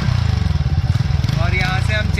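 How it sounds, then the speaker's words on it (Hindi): A TVS NTorq scooter with a modified exhaust runs in street mode, its steady low engine note throbbing close by while someone talks over it. "ये स्ट्रिक मोड की आवाज़ है"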